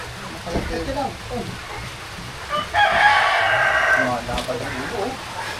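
A rooster crows once, loud and drawn out, among steady clucking hens on a farm, with people talking nearby throughout.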